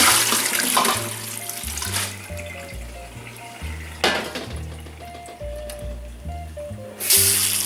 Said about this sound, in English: We now wash and rinse the cabbage.